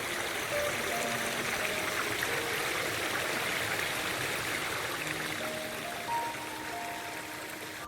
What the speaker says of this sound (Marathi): तो तिकडे वॉटरफॉल आहे केदुबलावर